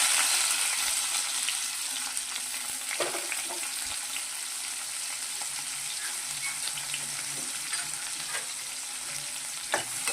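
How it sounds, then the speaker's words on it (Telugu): Onions fry in a pan with a constant close sizzle, broken by occasional spatula taps and stirring scrapes, steady and even with no voices. "అది కొంచెంగా ఫ్రై అయ్యాక ఇప్పుడు ఆనియన్స్ వేసేస్తున్నాం"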